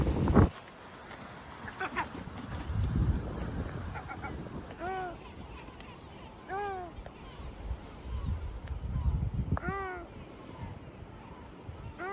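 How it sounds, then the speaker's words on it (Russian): Strong wind buffets the microphone at the Mirador de Carabineros lookout on Ifach, rising in loud gusts that come and go, while someone talks over it and gull-like calls ring out several times. "Ну да, с этой стороны ветер, конечно, очень сильный."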